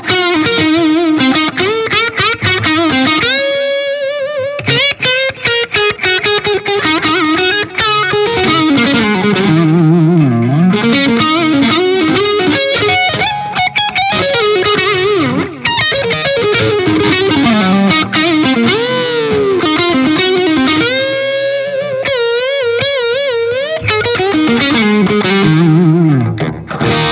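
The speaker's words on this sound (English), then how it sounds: "you're hearing a little bit of delay because we have it, the amp is dry and we have delay coming out another cabinet" Electric guitar played through a Friedman BE-100 amp with delay from a separate cabinet, driven and distorted, with fast continuous riffs and bends that fill the whole passage loudly and without a break.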